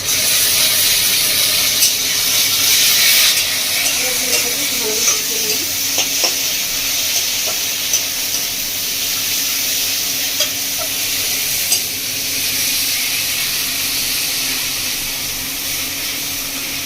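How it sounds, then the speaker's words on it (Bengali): Ginger-garlic paste sizzles steadily in a pan with tomato and onion for a village-style chicken curry, a constant hiss broken by occasional scraping stirs and clinks of the spoon, close and fairly loud. "আদা রসুন খুব ভালোভাবে কষিয়ে নিয়েছি।"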